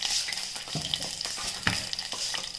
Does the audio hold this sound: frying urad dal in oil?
yes